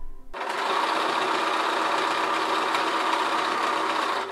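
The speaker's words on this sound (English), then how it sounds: "I'm sewing the back to the front" A sewing machine stitches a flat-felled seam through thick thrifted blanket fabric, starting abruptly and then running at a steady, fast, close mechanical whir for several seconds with no talking.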